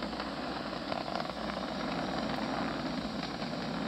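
Falcon 9 rocket engines roar in a steady, dense, broadband rumble during launch, passing through maximum dynamic pressure and going supersonic, loud and continuous throughout with no pauses.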